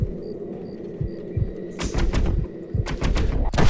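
Gunfire in the video game Red Dead Redemption: several sharp, loud shots crack out in quick irregular bursts over a low ambient game background, with faint bird-like calls early on.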